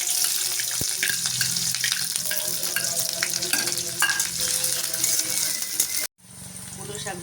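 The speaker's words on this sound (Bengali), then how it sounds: "রসুন আর পেঁয়াজ দিয়ে দিলাম তেলে" Onion and garlic go into hot oil in a pan for cooking greens, giving a loud, continuous sizzle with stirring scrapes, then a sudden brief cutoff and the sizzle returning at a lower level near the end.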